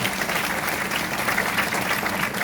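A seminar audience breaks into applause, dense continuous clapping from a large crowd lasting the whole moment, loud and even.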